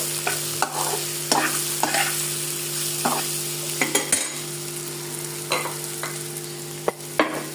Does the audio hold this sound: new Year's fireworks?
no